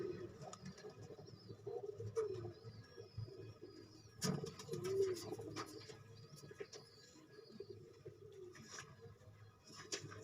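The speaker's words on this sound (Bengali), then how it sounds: "জালালি কবুতরের যে জোড়াটা দেখেন" Jalali pigeons at a pigeon farm give soft, repeated low coos with light fluttering and shuffling. Faint ambient chirps sit in the background of a quiet enclosure.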